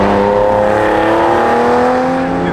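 A Porsche 996 Carrera 2 engine revs loud and close, its pitch rising and falling steadily as the car is downshifted from third into second gear, with no voices heard.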